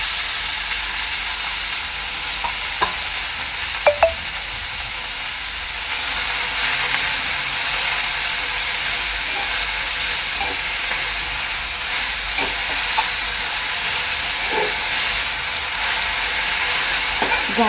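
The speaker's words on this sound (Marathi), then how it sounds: "मेथी आहे ना, लसणावर अशीच परतून घ्यायची आहे" Finely chopped fenugreek leaves sautéed over garlic in an open pan give a steady, close hissing sizzle, with a few soft clicks and taps of stirring scattered throughout.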